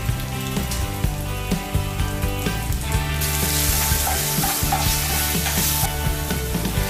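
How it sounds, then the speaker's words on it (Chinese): Ginger and chili crackle and sizzle in hot cooking oil in a wok, a steady dense frying hiss with a few stirring scrapes, close and fairly loud with no voices. "依序放入姜和辣椒爆香。"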